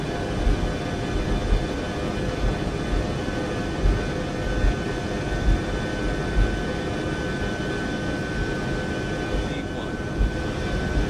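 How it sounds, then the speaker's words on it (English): Boeing 707 jet engines at takeoff power in Microsoft Flight Simulator 2024 on a historic Qantas flight from Christchurch to Sydney, a loud steady roar that runs throughout with faint cockpit clicks and occasional voices. "So the engineer will set takeoff power."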